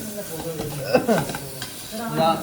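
Egg frying in a hot, smoking pan is stirred with a utensil, giving a soft sizzle under brief scraping strokes. The sound is short and close-up.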